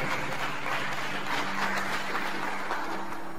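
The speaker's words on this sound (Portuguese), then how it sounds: "aplauda o Senhor aí bem forte" Congregation applauding in church during a sermon, a steady dense wash of clapping at moderate level with a faint low hum beneath and no speech.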